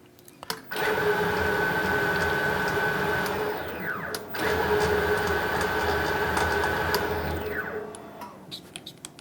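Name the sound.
lathe cutting a metric thread pass with electronic leadscrew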